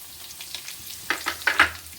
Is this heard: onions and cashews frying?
yes